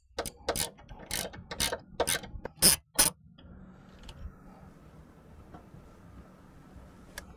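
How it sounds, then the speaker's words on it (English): A burst of quick ratcheting clicks from a hand tool loosening two strut tower brace nuts on a 2011-14 Ford Mustang GT 5.0L, several rapid strokes, then a quieter stretch of faint mechanical rustling. "we're going to start off by removing these 2 nuts"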